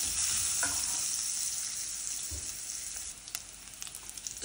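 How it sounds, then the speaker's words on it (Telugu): Chopped onions fry in hot oil with turmeric in a pan for arbi (taro root) curry, giving a steady close sizzle with an occasional stir and scrape of a spoon, no talking. "ఇప్పుడైతే ఉల్లిపాయలు బాగా వేయించుకుందామండి."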